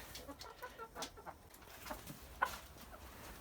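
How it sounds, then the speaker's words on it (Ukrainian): A young Leghorn rooster gives soft, faint clucks in a short irregular series, heard at a distance in a quiet farmyard setting. "е, півень перелякався"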